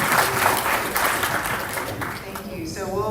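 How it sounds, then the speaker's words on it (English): Audience applause fills a hall at a Nairobi presentation event, steady and fairly loud throughout, with a crowd murmur and a voice speaking briefly near the end. "are they clapping for me or for you?"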